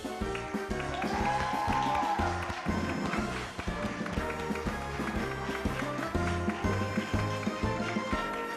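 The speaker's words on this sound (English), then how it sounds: "Now please give a huge round of applause for year 3." A school show audience claps for the year 3 performers, a steady patter of many hands lasting several seconds, with faint music or voices mixed in.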